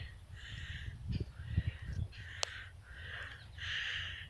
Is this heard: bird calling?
yes